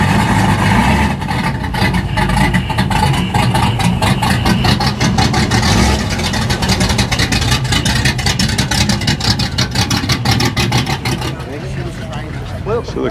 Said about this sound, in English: So the cars are starting to leave